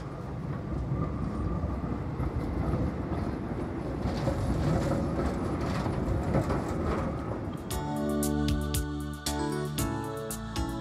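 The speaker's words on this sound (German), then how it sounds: "Die Fahrt in der alten roten-weißen BIM erinnert an die Straßenbahn von gestern." An old red-and-white Vienna tram, type E2 built between 1978 and 1990, rumbles along its tracks with steady rolling noise, then rhythmic clicking and metallic tones near the end.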